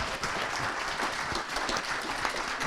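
A room full of people applauds panelists at a panel discussion, dense clapping filling the whole moment without a break.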